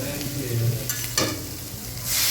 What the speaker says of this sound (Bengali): সেটা আমি হালকা হালকা করে এবার ভেজে নেবো মশলাটা